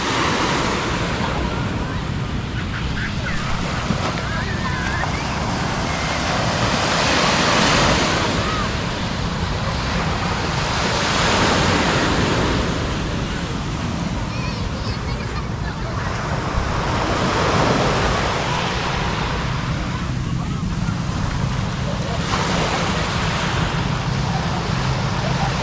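Ocean waves break steadily on the shore at Aroma Beach in San Jose, Occidental Mindoro, a continuous loud wash of surf swelling and receding every few seconds, with wind buffeting the microphone.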